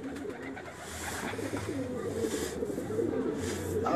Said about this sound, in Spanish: ya entraron las palomas ya